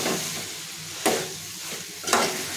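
Goda masala being stirred into a simmering prawn curry in a pan, with two distinct scraping strokes of the spoon over a steady, soft sizzle of oil close by.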